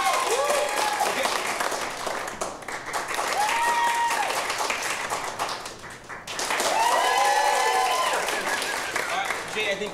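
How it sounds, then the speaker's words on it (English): A live audience applauds loudly at a show, a dense burst of clapping and cheers that dips briefly midway and then swells again, with excited voices and whoops mixed in. "Applaud for Jay's story now."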